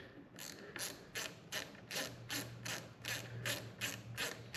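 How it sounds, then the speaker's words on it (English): A hand ratchet tightening the bolt on an ASV C5 brake lever fitted to an Aprilia Tuono 660, about ten quick, evenly spaced clicking bursts, close up and fairly quiet, with no voice over them. "So I just grab my ratchet,"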